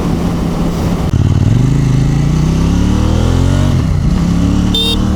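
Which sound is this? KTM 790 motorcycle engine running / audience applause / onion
KTM 790 motorcycle engine running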